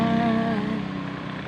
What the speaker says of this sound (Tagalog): sasakyan na dumaan.